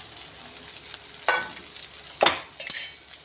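Spoon stirring pumpkin masala in a pan with the stove turned off, a quiet residual sizzle beneath a few distinct scraping strokes, each a short rough burst against the pan.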